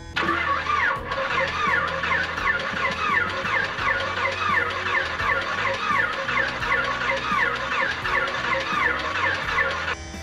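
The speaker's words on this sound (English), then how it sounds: "Let's see if this other one will fire up." The right piston engine of an abandoned twin-engine airplane cranks to start, with a rhythmic, repeating whir of the starter turning over steadily and loudly for about ten seconds, with no talk.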